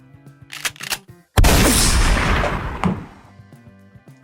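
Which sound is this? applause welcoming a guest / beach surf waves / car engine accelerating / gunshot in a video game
gunshot in a video game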